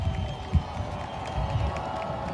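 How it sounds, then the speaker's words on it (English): A football game crowd cheers and murmurs in the stands at a distance, a steady low roar with occasional swells and thumps, fairly faint. "Mason crowd, you can hear them through our microphones."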